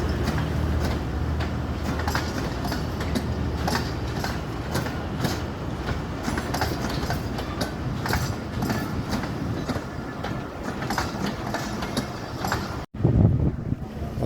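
A train rolls out of Rawalpindi railway station in rainy weather, a loud continuous rumble of wheels and rattling carriages with rhythmic clicks, ending in a brief abrupt cut and a thump.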